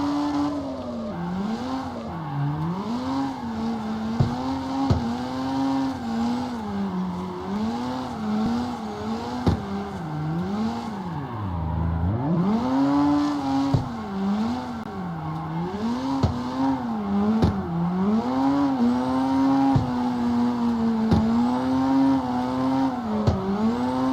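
A car drifting through streets in CarX Street, its engine revving up and down in wavering surges while sharp tire squeals and scuffs break in repeatedly over about twenty-four seconds, with no voices.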